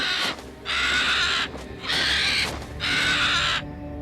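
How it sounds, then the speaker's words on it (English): Three loud, harsh crow-like caws from a bird, each long and raspy, spaced evenly and heard close, with no talk. "Sita heard a bird scream"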